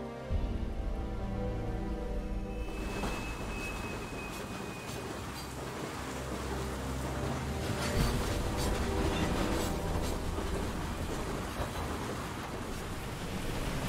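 A train rumbles past in the video game Beyond Two Souls, in the chapter Gejagt: a loud, steady rolling roar of wheels and carriages with rhythmic clatter that grows after a brief quieter start and persists throughout.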